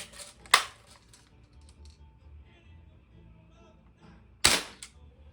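Two sharp snapping shots from a Crosman 760 Pumpmaster air rifle, several seconds apart, close and crisp over quiet outdoor background with a faint murmur.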